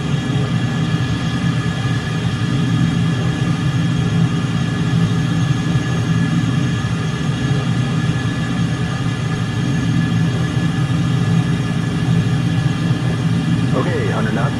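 A twin-engine airplane rolls down the runway in Microsoft Flight Simulator, its engines holding a loud, steady droning hum with a low rumble throughout.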